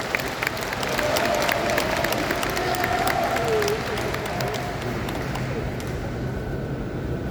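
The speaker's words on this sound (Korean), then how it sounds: "이럴 때 박수 치는 거예요." Clapping from an audience in an indoor gymnasium at a provincial farm leaders' convention, a moderate round of applause swelling and then thinning, sounding roomy and slightly distant.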